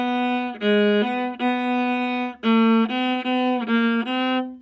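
A viola played out of tune in half position, the second finger placed too high, giving a bowed melodic passage of sustained notes with clear bow changes, solo and close, with no talking.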